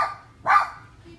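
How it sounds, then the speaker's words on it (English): A dog gives a single loud bark, sharp and close, after a fainter earlier yelp, in a quiet indoor room. "my dog's barking"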